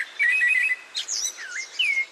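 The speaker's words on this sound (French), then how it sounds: "C'est un merle noir." A common blackbird sings alone, a clear, fluting phrase of varied warbled whistles and twitters, close and bright against a quiet background.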